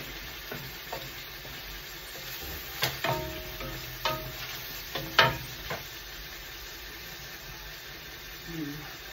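Liver frying in a pan for pancit bihon, a low steady sizzle broken by several sharp stirring scrapes and clinks of a utensil against the pan, close and fairly quiet.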